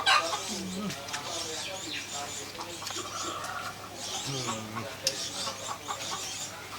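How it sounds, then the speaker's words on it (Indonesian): Busy bird chirping and warbling calls run throughout over steady hum, with a person talking intermittently underneath. "Ini burungnya, Li. Iya nih. Bagus Ya, nggak suaranya?"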